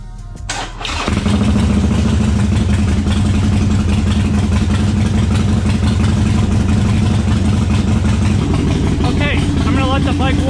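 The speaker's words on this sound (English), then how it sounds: "So turn the bike on." A Harley-Davidson Sportster motorcycle engine cranks briefly and fires up, then settles into a loud, close, steady idle with a rhythmic thumping rumble that continues throughout.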